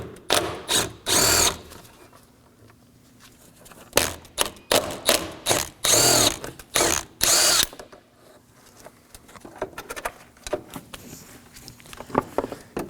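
A power tool whirs in repeated short bursts, close and loud, while two 10mm bolts securing the radiator hose junction are removed on a Nissan Sentra, with quiet gaps and small clinks between the runs.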